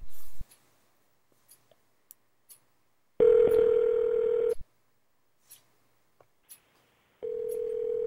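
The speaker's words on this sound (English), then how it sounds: "Let's do another manual dial" Dialer software placing a manual call produces a dial tone, a run of soft clicks and short tones, then a steady telephone tone that returns near the end, with no talking.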